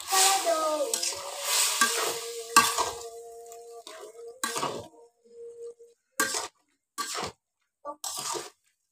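Bottle gourd is stirred into fried boal fish heads in a pan, giving a loud opening sizzle that fades into intermittent scraping, clattering stirs with short pauses between them.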